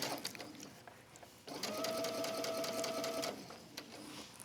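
A sewing machine backstitches a wrap dress, running in one steady whirring burst of close stitching for about two seconds, framed by quieter handling noise.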